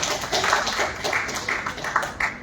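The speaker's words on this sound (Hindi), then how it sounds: "इनके स्वागत में हम करें ताली की बौछार।" An audience at a literary festival's annual celebration gives a round of clapping, a dense steady patter of many hands with a few louder individual claps standing out.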